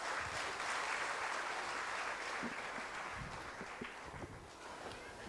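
An audience at a school annual day claps in a faint, distant round of applause that continues steadily for several seconds.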